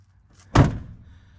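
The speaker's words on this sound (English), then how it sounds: "shouldn't have to slam the doors to get them to lock" A Mercedes Sprinter van door slams shut in one heavy, close thunk with a brief metallic rattle and a short fading tail in an otherwise quiet setting.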